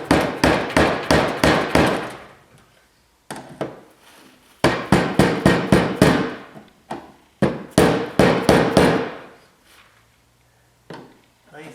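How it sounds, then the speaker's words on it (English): Rapid bursts of sharp metallic hammer strikes on a rusty fuel pump lock ring of a Tahoe, Suburban or Silverado, in quick clusters of five or six blows separated by short pauses. "Hammer it back in place."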